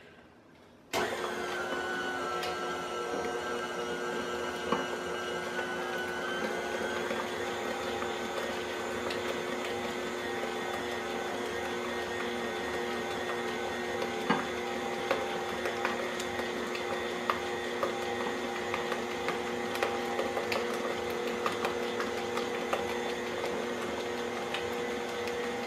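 An electric stand mixer on low speed beating cheesecake batter, a steady mechanical whir with a constant hum that starts abruptly after a second and runs evenly, with faint occasional ticks and no talk.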